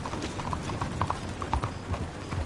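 Horse hooves clip-clop steadily on a hard surface in the Red Dead Redemption 2 epilogue, a close, even rhythm of clopping footfalls over a soft background wash.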